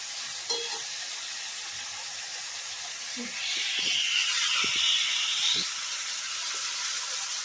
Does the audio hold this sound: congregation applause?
no